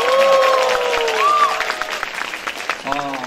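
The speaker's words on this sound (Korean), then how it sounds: "다시 한번 뜨거운 박수 부탁드립니다" Crowd applause from a live public broadcast show audience after a song performance, loud and steady, mixed with sustained tonal voices or music before thinning into scattered claps and a brief voice near the end.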